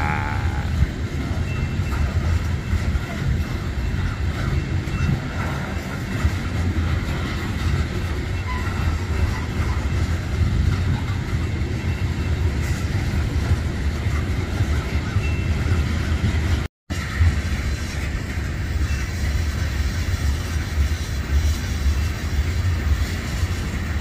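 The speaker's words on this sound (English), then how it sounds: "Good old bread train." A freight train, a bread train run by UP or BNSF around Kansas City, rolls past steadily and loudly for the whole stretch, a continuous rumble and clatter of wagons with high squeal, briefly cut out once.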